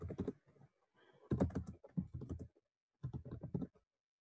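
Computer keyboard typing in a terminal: three quick bursts of keystrokes, close and clear, with short pauses between them and no talking.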